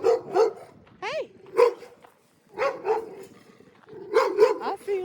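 Neighbourhood dogs bark and yip in quick, close bursts, several barks in a row with a brief pause, recorded at fairly close range outdoors.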